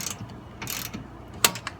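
A wrench works a bolt on the rear brakes of a car with a JDM B20 VTEC engine, giving a few short, close metallic ratcheting clicks in separate bursts over low background hum.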